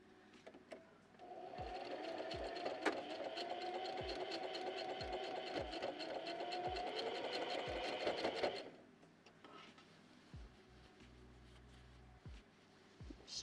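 A sewing machine stitches through layers of fabric in a continuous, even mechanical whir for about seven seconds, then stops. Soft handling noises follow, and a few sharp regular clicks are heard under the run.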